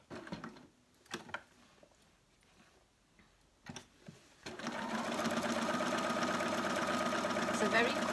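A sewing machine stitches around the edge of a fabric peg bag. A few scattered taps and clicks come first, then a continuous, close whirring run fills the second half.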